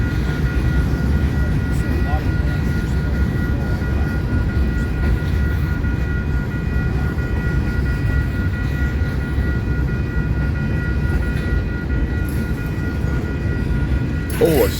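A freight train rolls past in Fremont, Nebraska, a steady, continuous low rumble of railcars close by that holds for the whole stretch, with a voice speaking now and then over it.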